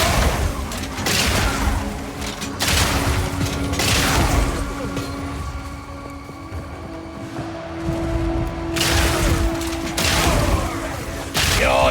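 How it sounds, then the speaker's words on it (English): Bombs exploding in Path of Exile 2, a series of heavy crashing blasts spaced a few seconds apart, loud and close, with a steady tonal hum between them. "Ugh, stupid bombs."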